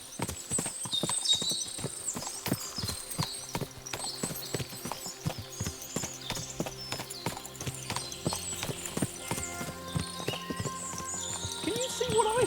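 Many horses clip-clopping in Kingdom Come: Deliverance II, a steady clatter of hooves with an occasional whinny over an ambient game score, close and continuous throughout.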